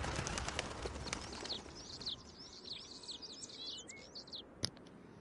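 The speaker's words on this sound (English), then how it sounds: "Birds." Birds chirp and coo in a video game's outdoor scene, a cluster of quick twittering calls at moderate distance over a soft ambient bed, with one sharp click near the end.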